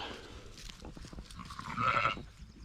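Sheep bleating on a farm, let out into a small wooded area on a warm day; a few bleats rise over low outdoor background noise, with the loudest cry near the end.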